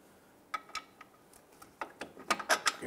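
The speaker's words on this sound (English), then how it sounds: "I'm gonna use a jack here to go underneath our lower control arm." A jack under the lower control arm of a 2012–2017 Toyota Camry lifts the knuckle and brake assembly, giving sparse metallic ratcheting clicks that grow denser and louder toward the end, close by with no talk.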